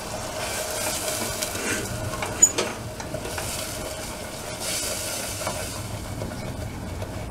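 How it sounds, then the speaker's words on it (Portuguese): A steady, soft sizzle of food sautéing in a tall pot on a stovetop, with occasional stirring scrapes and clinks, close by and without talking. "para refogar aqui um pouquinho"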